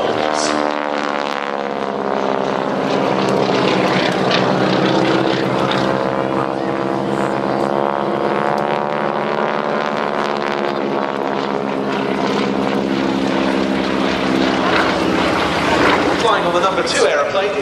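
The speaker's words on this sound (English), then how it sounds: "Synchronized rolls." Stearman biplanes fly synchronized rolls during a wingwalking display at Little Gransden airfield. Their radial engines make a sustained, droning propeller roar that swells and fades steadily, heard from a distance.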